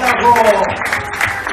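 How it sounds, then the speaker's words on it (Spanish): Audience applause at a singing semifinal show fills a short burst, with lively clapping and crowd noise while a voice speaks over it. "¡Venga, fuerte el aplauso!"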